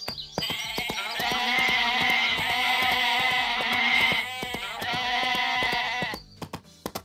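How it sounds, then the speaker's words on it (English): A herd of goats bleats in the video game Barbie Horse Adventures: Mystery Ride, many overlapping calls blending into a loud, steady chorus with a brief dip partway through before it cuts off. "a similar trick is used to make a herd of 5 goats sound much more like a herd of between 11 and 13"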